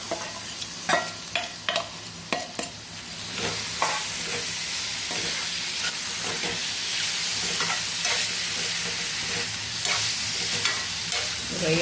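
Raw prawns frying in a pan with browned onions, a steady close sizzle under repeated stirring scrapes, the first few seconds marked by distinct spatula strokes before a continuous crackling fry takes over.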